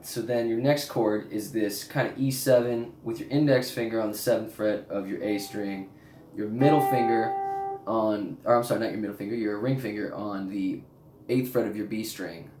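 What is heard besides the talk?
No everyday noises stand out.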